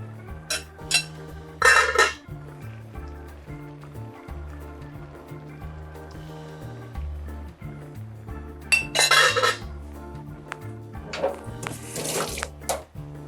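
Soaked glass noodles going into a pot of braised spicy chicken, with metal and glass clinks, utensil knocks against the pot and a soft simmer, over steady background music.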